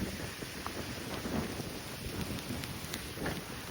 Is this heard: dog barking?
no